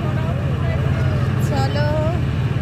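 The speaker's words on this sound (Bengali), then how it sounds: "তো আমাদের লঞ্চ কিন্তু ছেড়ে দিয়েছে" A motor launch chugs along the Ganges river with a steady engine drone and water rush, while people talk over it throughout.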